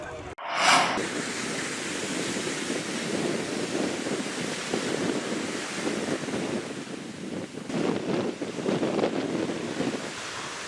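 Ocean tidal waves wash against the eroding shore at Ampenan, Mataram, where high tides have damaged homes: a steady, broad roar of surf mixed with wind buffeting the microphone, rising and falling throughout with no clear break.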